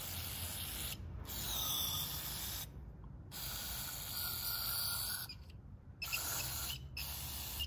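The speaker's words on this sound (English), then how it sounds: "Give it a little spray." Several hissing bursts from an aerosol can of brake cleaner sprayed on a Chevy Cruze part, close up, separated by short silent pauses, the last bursts shorter.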